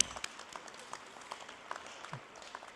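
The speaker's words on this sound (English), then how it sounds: "Let's give an applause for these members." An audience at a high school National Honor Society induction ceremony applauds steadily, a faint, distant patter of many hands clapping in a large room.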